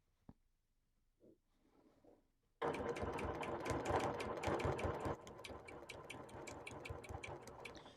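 A sewing machine starts up after a few quiet seconds of small handling noises, then stitches in a fast, steady, loud mechanical rhythm during machine quilting, slowing slightly toward the end.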